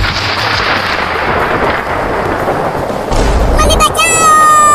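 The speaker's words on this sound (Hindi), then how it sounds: "मम्मी, बादल गरज रहा है और बिजली भी गिर रही है।" Loud rumbling booms of thunder roll through steady heavy rain, with a sharp crack near the end.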